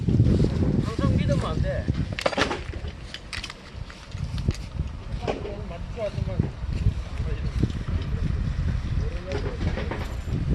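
Gusty wind buffets the microphone at an outdoor junk market in Sangju, a steady low rumble that swells and dips throughout, with faint voices and bustle underneath.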